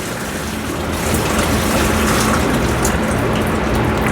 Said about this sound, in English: And he's going to pour it into the strainer,